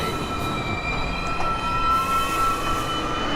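A Manhattan-bound 2 subway train sits at a station, giving a steady, loud rumble with thin, sustained high metallic whines and squeals running over it, and no talking.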